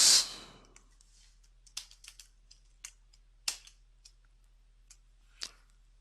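Sparse, light clicks of keys tapped on a computer keyboard, a few quick irregular strokes spaced out over quiet pauses, close and crisp after a brief initial rustle.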